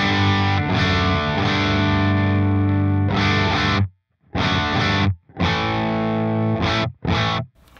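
Distorted electric guitar riff through an amp with a beefy British character and the LPD 87 pedal switched off: loud chugging, saturated chords in chunky bursts broken by short stops, played alone.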